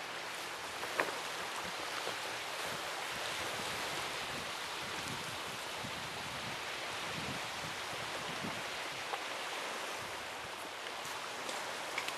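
Waves wash steadily against the stony beach at Petoskey, Michigan, a soft continuous hiss of surf with no voices, faint and unbroken throughout.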